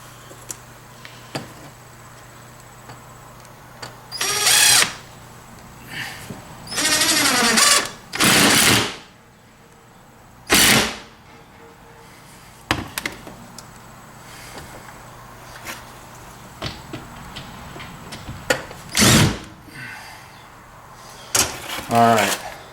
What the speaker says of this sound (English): we'll put another screw in the other side